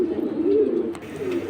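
Young high-flying pigeons coo loudly and close at a pigeon market, a continuous throaty warble with a few sharp clicks near the end and no talk.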